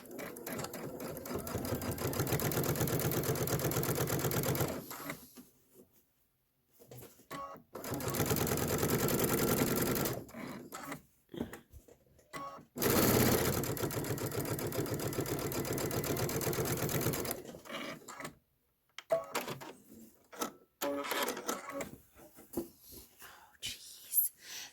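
A domestic sewing machine stitching a Kimberbell quilted pillow runs in three long bursts of rapid, even needle chatter separated by pauses, close and loud, with soft whispered talk and small handling clicks in between.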